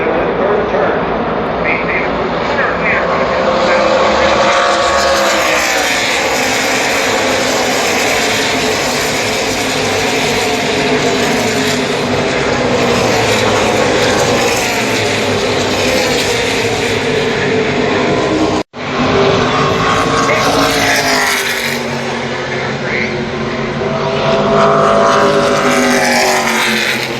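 ARCA and NASCAR race cars at Pocono Raceway roar out of turn 3. A loud, continuous engine drone with rising and falling pitch sweeps as cars pass runs throughout, with a brief cut near the end and commentary voices over it.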